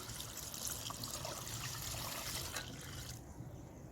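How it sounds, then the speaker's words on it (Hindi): Four litres of milk pour into a large pot holding eight kilograms of crushed carrots for carrot halwa, a steady close splashing trickle that runs for several seconds and then eases, heard with no talk. "ये 4 लीटर जो है ये दूध है, इसको मैं शामिल करूंगी।"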